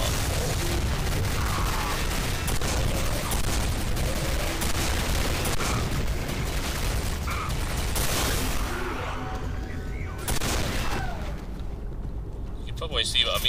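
Dark matter gun firing in the Quake 4 video game, a sustained loud barrage of booming, crackling blasts over continuous game noise, with a sharp burst near the end as the din thins out.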